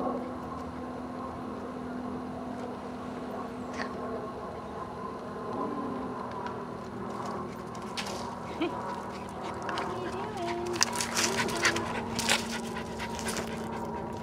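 A dog pants steadily nearby under a low hum, with scuffling and rustling growing busier toward the end; a person's voice comes through faintly.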